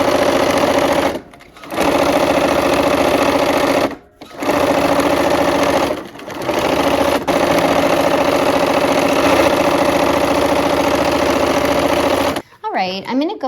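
Sewing machine stitches a quilt block in long steady runs, close and loud, with a few brief pauses between seams and a short voice at the end.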